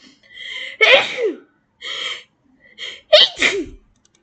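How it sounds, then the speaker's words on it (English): A sharp gasping intake and sneeze, then a second sneeze after a pause and a final double sneeze, loud and close with no talking. "I need to sneeze really bad."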